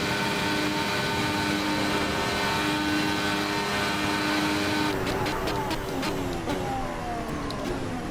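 A Ferrari SF71H Formula 1 car in a racing simulator screams at sustained high revs with a dense harmonic engine whine, then shifts into a series of quick gear changes and pitch swoops, loud and close throughout.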